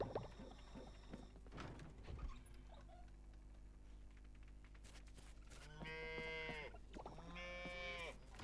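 Cows in the farming video game Coral Island give two drawn-out moos near the end, heard after a stretch of quieter farmyard ambience and light pattering sounds.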